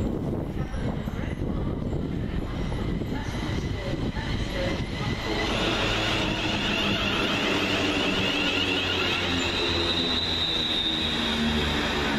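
A Class 350 electric multiple unit passenger train rumbles past close by at Rugeley Trent Valley station, its steady roar of wheels and motors filling the whole stretch with a faint high whine.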